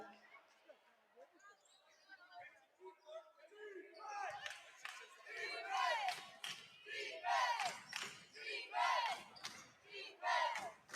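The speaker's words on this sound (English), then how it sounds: "Hear the crowd behind me." Home crowd at a boys high school basketball game chanting and cheering for defense, rhythmic rising shouts building after a quiet start, with a commentator's voice nearby.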